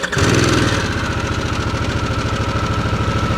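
A new Harley-Davidson Sportster S V-twin engine idles close by with a steady, lumpy low thump, the uneven firing pulses repeating evenly throughout.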